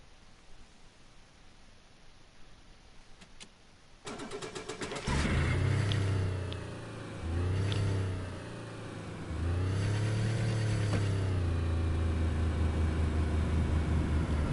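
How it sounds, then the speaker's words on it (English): A car engine in the video game DayZ cranks and catches, then revs up and down in several long surges, loud and close, with no talking. "The car sounds a little bit rusty"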